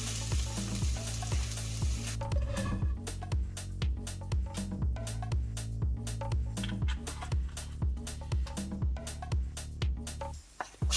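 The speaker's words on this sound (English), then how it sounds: "continue frying until the onion is soft and translucent" Steady sizzling of onion frying in a hot pan until soft, with occasional stirring clinks and scrapes, fairly close and continuous.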